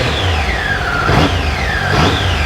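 Triumph Tiger 800XC motorcycle engine running close by with a possible fault, a steady mid-pitched drone rising and falling through two revs, no voices.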